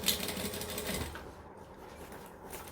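A sewing machine runs in a steady mechanical whir while stitching down only the exterior layer of fabric, loudest at the start and then fading to a quieter hum, with no talking.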